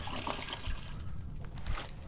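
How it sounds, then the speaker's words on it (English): A household toilet flushing, a steady watery rush and trickle with low rumble, fairly quiet and continuous for about two seconds with no talk over it. "You guys want to hear me flush my toilet?"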